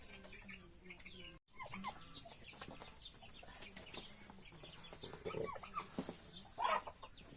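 Turkeys and guinea fowl cluck and call at a rural feeding spot, a soft, busy chorus of fowl sounds heard from a short distance over constant insect buzz, with a brief dropout early on.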